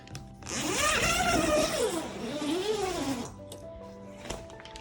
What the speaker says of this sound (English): just putting in the Velcro all around, and then I'll zip it up